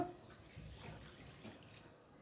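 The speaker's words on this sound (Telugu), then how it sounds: "కొద్దిగా నీళ్లు పోస్తానండి ఇందులో నేను" Water trickles and splashes softly as it is poured into a masala curry in a pan, a faint, brief liquid pour over quiet kitchen background.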